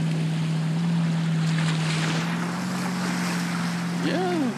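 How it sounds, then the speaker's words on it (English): Boat wake waves from a passing jet ski wash against the shore, a steady surging wash under constant wind noise, with a low motor drone running throughout and a brief higher engine whine near the end. "This guy leaves a pretty good wake, actually."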